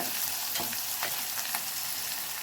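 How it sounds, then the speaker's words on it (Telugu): Turmeric being stirred into a sizzling pan mixture for a beans gravy curry, with steady frying hiss and a few soft scraping stirs, close up and without speech. "పసుపు వేసేసుకొని ఇలా ఒకసారి కలుపుకోండి"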